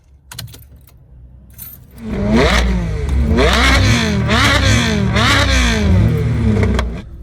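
A Citroen C1 engine fitted with an OBD2 tuning box revs repeatedly, a series of rising and falling throttle blips, loud and close, after a quieter idle at the start with no talk.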